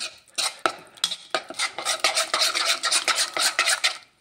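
A spoon stirs a mixture in a bowl, scraping and clinking against the sides in a steady run of close, fairly loud strokes, with no talking.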